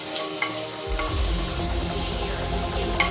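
Tomatoes and salt stirred in a hot pan, a steady sizzle of frying with a few sharp scrapes of a spoon against the pan, close and continuous with no talking.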